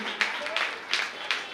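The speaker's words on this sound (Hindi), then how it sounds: "जोरदार तालियां इस बच्चे के लिए" Audience applause at a Jain temple cultural program in Ladpura, Kota, with steady crowd clapping and bursts of stronger claps throughout, heard indoors at moderate level without clear speech on top.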